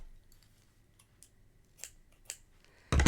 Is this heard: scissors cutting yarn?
yes